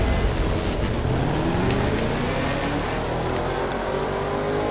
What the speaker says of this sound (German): Ich muss mit der Harley jetzt fahren